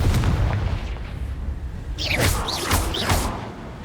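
A Confringo blasting spell in Hogwarts Legacy goes off as a run of three or four booming bursts with whooshing tails, rising out of a low rumbling background and fading back toward the end.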